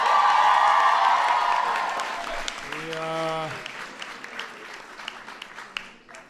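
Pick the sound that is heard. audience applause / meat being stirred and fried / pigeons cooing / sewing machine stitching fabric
audience applause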